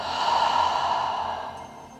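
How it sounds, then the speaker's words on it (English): A deep breath is exhaled audibly through the mouth during a guided meditation: one long, steady, breathy whoosh that slowly fades, heard alone with no talking. "In through the nose and out through the mouth."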